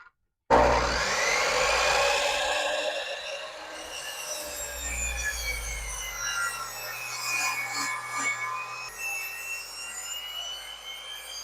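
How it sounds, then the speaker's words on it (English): A miter saw cuts a wooden board, starting with a sudden loud whine, then a long grinding, rasping cut that fades to a lower spinning hum, with no talk. "So we are at our miter station here, and we're going to make our first cut."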